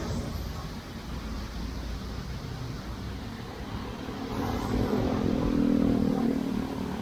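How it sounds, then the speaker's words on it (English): Vehicles passing on a wide asphalt road, a low rumble that swells toward the end as a car draws nearer, steady and unaccompanied by speech. "this road still gets traffic"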